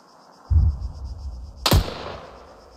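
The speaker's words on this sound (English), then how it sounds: "we're going to take our first shot and see how we get on" Sniper rifle fired in Arma 3 at night, a low thump followed about a second later by a single sharp, loud crack that rings out and fades, over a faint steady background hum.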